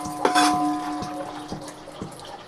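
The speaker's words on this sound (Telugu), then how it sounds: "నీళ్ళు, పాలు వేసుకుందాం." Water and milk are poured into a pan for sweet semiya, a brief splashing gush followed by soft sloshing and a few light knocks.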